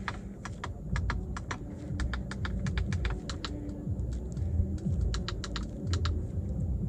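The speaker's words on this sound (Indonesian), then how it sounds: "Dia detailnya tuh sampai ke suara-suara tombol tuh diperhatikan." Rapid, crisp clicks from the touchpad and buttons of a Mercedes-Benz A200 sedan's MBUX system come in quick irregular runs over a low cabin hum, with no speech.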